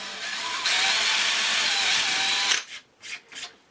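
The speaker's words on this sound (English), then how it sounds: "just try drilling it to see how it copes with being drilled into" A power drill whines steadily for a couple of seconds, then stops, followed by three short bursts of drilling into cured Bartoline All Purpose Filler, close and loud.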